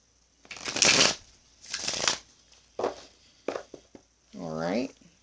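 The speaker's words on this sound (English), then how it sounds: "One more shuffle and a cut." Tarot cards are shuffled by hand in several quick riffled bursts with short pauses between them, crisp and close, followed by a brief voiced sound near the end.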